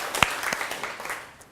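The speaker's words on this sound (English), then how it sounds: "Another round of applause to the 3 people that did get up." An audience at a small meetup talk claps briefly, a short patter of scattered hands with one sharp clap at the start, fading quickly at moderate volume.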